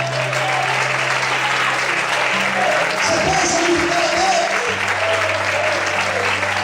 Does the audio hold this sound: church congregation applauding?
yes